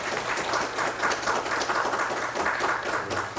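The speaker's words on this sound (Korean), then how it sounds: "큰 박수 부탁드리겠습니다" An audience at a high school eyewear design contest awards ceremony claps in a steady, moderately loud wash, with no voices over it.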